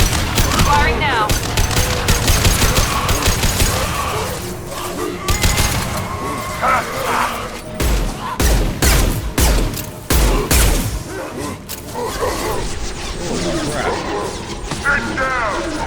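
Rapid bursts of automatic weapon fire and impacts in a Mass Effect firefight aboard a Collector ship, loud and continuous with crashes, layered over game music and effects.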